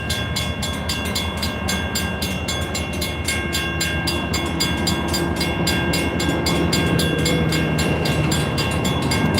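Escanaba and Lake Superior Railroad cars roll past steadily with a rhythmic clickety-clack of wheels over track joints, loud and continuous, with a constant mechanical hum underneath.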